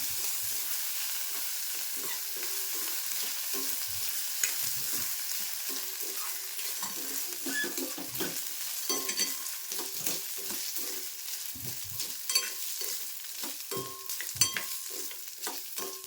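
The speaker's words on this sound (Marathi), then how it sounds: "तांदूळ पण छान असे ना थोडासा कलर येईपर्यंत भाजून घ्यायचे" Rice grains dry-roasted in ghee in a pan for kheer, with soft scraping stirs and a faint, steady sizzle close by, no voices.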